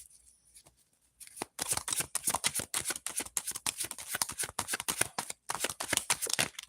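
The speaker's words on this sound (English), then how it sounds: "we're going to pull out 5 cards for the earth energy and see what we get here" Tarot cards handled and drawn from a deck, starting with a near-silent moment before a rapid run of dense papery flicks and riffles that keeps up briskly, close to the listener with no voice over it.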